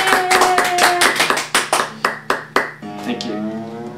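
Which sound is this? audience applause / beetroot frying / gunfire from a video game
audience applause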